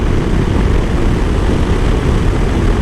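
A Yamaha Tracer 7 motorcycle rides along a road with a steady, loud roar of engine and rushing air. The drone is continuous and unbroken throughout.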